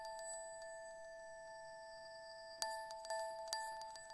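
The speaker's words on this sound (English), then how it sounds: "Arctic Bells." Arctic Bells synth bell preset playing steady sustained tones, then a few sharp bright bell strikes ringing out in quick succession near the end, faint and clean with no talk.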